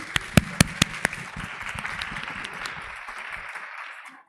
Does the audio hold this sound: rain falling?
no